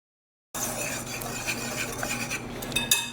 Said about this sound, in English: it's just so much easier to just put everything in a bowl and whisk it together